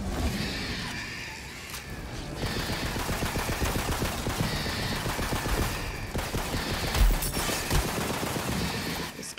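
Continuous rapid gunfire in the fantasy shooter Tiny Tina's Wonderlands during a boss fight, loud and steady for several seconds, with scattered impacts and effects layered over the stream of shots.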